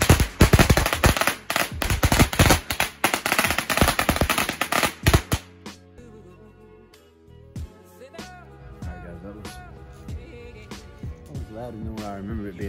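Rapid bursts of firecrackers crackle and pop loudly for several seconds, then give way to scattered fainter bangs and music-like tones.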